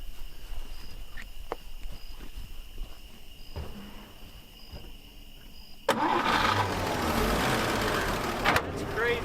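A 1954 Chevy Bel Air that had sat abandoned turns over with a sudden start, then runs loudly and steadily up close after quieter moments of faint clicks and talk.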